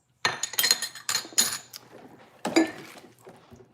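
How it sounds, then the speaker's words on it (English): Glass clinks and knocks at close range: a quick cluster of bright, sharp taps, then a pause and another ringing knock that fades out, with no talking. "Oh, I thought I just cracked a glass then."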